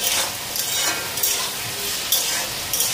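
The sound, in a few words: potatoes frying in a pan for breakfast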